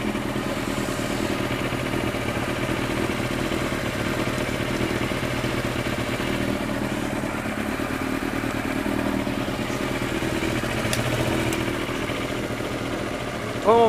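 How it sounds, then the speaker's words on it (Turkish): A motorcycle engine idles steadily and loudly right after a battery jump start, with a constant rumble and light mechanical clatter throughout. "Akü takviyesiyle motor çalıştırma böyle."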